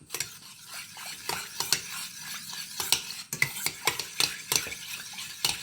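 A spoon stirs chocolate powder into a sago mixture, scraping steadily against the vessel in quick repeated strokes. The sound is close and moderately loud, and no one speaks.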